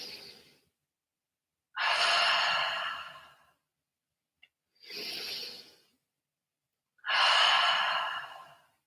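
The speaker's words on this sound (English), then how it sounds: "So the in breath, tighten everything up. And out breath, let it go." Slow, deep breaths in and out during a guided relaxation exercise, long airy inhales and exhales alternating with pauses, close and steady with no talking.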